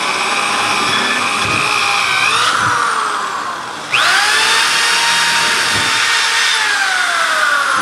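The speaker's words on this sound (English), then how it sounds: "we're going to drill 3 holes in our horns" A loud, steady power drill whine runs throughout as holes are drilled into deer antlers for a whitetail horn panel, dipping briefly as it slows, then spinning back up to full speed.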